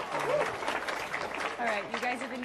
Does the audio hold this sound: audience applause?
yes